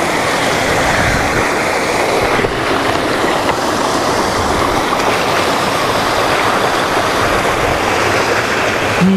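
A hidden waterfall near Hayathnagar, Hyderabad roars in a loud, dense, unbroken rush of falling water, close by and steady throughout, with no voices.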